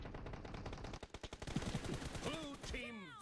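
S12K shotgun firing in a video game, a rapid string of quiet, sharp gunshots at a steady pace, followed by a few chirping game sounds near the end, heard faintly.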